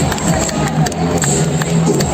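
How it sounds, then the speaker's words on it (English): Applause from a crowd at a bodybuilding championship, the Parel Shree 2022 title event in India: loud, dense and continuous clapping throughout, with crowd noise and some voices mixed in. "तालियां बजती रहनी चाहिए."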